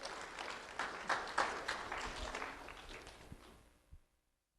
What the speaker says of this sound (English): Let's have a round of applause for Lucas Patello.